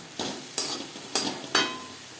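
Shrimp heads fry with tomato and green chillies in a pan, under a soft steady sizzle and four close scraping stirs spaced about half a second apart.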